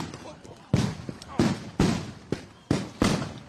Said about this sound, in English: Got fireworks going on.